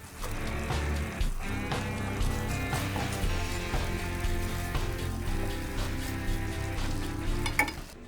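Finely chopped shallots and pressed garlic sizzle steadily in a frying pan for a cream sauce, a constant close hiss with faint stirring scrapes and no voices.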